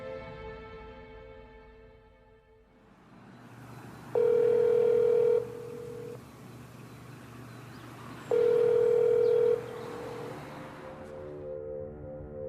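A telephone dial tone holds steady and fairly loud, broken twice by a longer, brighter tone lasting about a second. There is a faint background hum and no one speaks.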